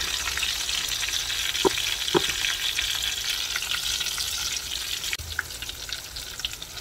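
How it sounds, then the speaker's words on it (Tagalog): Pink salmon and beef liver steak sear in hot oil, giving a steady close sizzle and hiss with a few sharp pops and clicks from the pan throughout. "sear natin siya sa oil"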